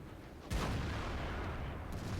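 A single tank cannon shot in World of Tanks, a sharp boom followed by a rumbling tail, heard fairly faint against steady engine and battle background noise.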